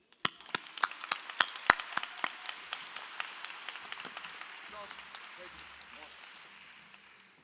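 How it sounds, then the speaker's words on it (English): A graduation ceremony crowd claps in a burst of distinct, sharp hand claps that starts strong and gradually thins out and fades over several seconds. "Please give him another round of applause for Sergeant Dry"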